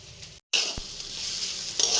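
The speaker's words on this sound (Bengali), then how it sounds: "এই যে কড়াই হচ্ছে, পেঁয়াজ দিয়ে আলু উচ্ছে ভাজা হয়ে গেছে।" Potato and bitter gourd frying with onion in a wok, a steady close sizzle with a brief break near the start and the scrape of stirring.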